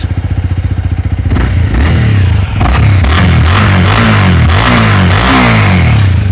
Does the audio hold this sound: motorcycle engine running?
yes